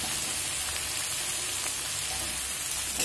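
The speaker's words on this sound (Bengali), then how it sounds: "3 থেকে 4 মিনিট মিডিয়াম ফ্লেমে ভেজে নেব" Potato with snake gourd and coconut prawns fries in a pan over a medium flame, giving a steady, dense, close sizzle with no break and no talking.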